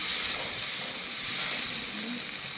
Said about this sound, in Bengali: আদা বাটাটা দিয়ে একটু ভাজবো